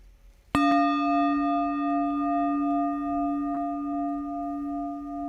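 One meditation bell is struck once and then rings on in a long, pure, sustained tone that fades only slowly, with a soft second touch partway through, alone in a quiet room.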